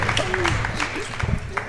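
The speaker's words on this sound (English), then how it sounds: "Can we have a round of applause for our guests?" A brief round of applause from an audience for guests on a live chamber of commerce panel, steady clapping heard with voices talking over it.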